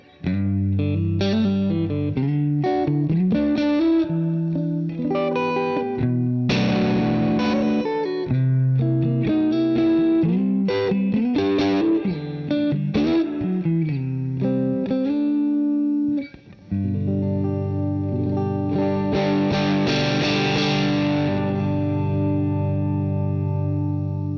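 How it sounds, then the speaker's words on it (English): An electric guitar through a tube amp with gritty overdrive plays chords and single-note phrases, sustained and loud, with a brief pause near the middle before ringing chords resume. "when I was pushing, there were some sparkly overdriven tones"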